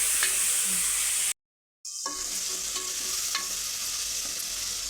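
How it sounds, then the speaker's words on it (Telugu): Coriander is stirred into mutton pulao cooking in a pressure cooker, giving a steady sizzle with scraping stir strokes that drop out for half a second before the frying hiss resumes. "కొత్తిమీర వేసి కలుపుకోవాలి."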